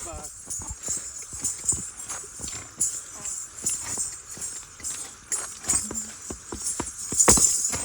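A mare's hooves clip-clop in an uneven rhythm close by, with scattered shuffling, while a person talks and calls out intermittently over them.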